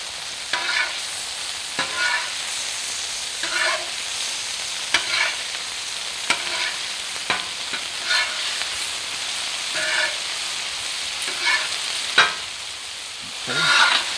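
Smashed burgers sizzle steadily on a hot Cuisinart cast iron surface, with a constant frying hiss broken by repeated scraping and spatula clicks as the patties are moved and flipped.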